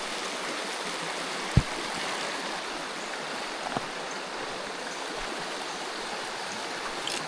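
A small brook trout creek flows steadily nearby, producing a continuous, even rushing and babbling with a couple of faint knocks and no voices.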